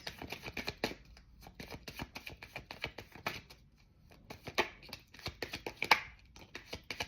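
Tarot cards being shuffled by hand, giving a near series of uneven papery riffles and soft taps with short pauses, with no talking over them.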